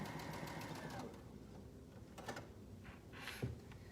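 A sewing machine stitches fabric along the edge of a shirt being turned into another garment, giving a steady close mechanical whir with a few short clicks and a brief knock near the end.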